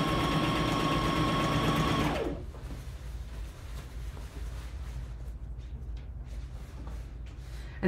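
A sewing machine stitches the seam allowance down to the facing of a drape, sewing 1/8 inch from the edge. Its steady, fairly loud mechanical whir runs for about two seconds and then stops, leaving quiet room tone.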